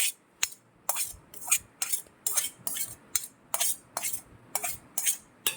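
A metal spoon stirs cooked rice with ghee in cooking pots, giving a regular series of about a dozen sharp scraping clinks roughly every half second, close and alone.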